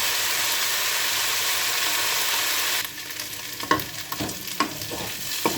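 Potatoes and cauliflower fry in a pan for Chinese-style aloo gobhi, a steady loud sizzle giving way midway to quieter frying broken by several scraping stirs.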